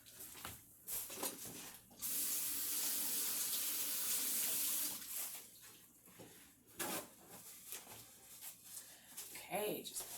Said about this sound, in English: just wash my hands real quick